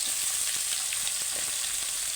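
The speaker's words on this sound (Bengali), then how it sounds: "এবার আমি চুনো মাছের আলু তুলে দেবো" Potatoes frying in a pan for a small-fish curry make a dense, even sizzle and hiss close by, continuous from start to finish, with no talking.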